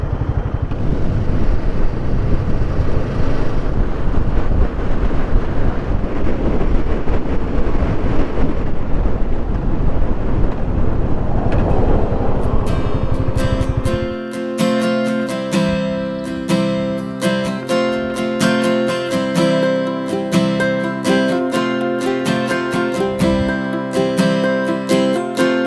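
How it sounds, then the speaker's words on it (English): Strong wind near Milford Sound in Fiordland roars and buffets the microphone as a loud, continuous rush for about fourteen seconds, then gives way to steady tonal music. "Winds are something fierce again."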